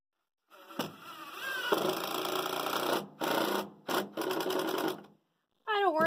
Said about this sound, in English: especially if you've got a real torquey screw gun